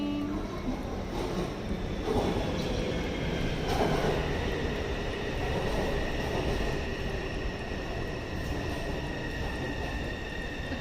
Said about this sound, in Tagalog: Yan ang train, no?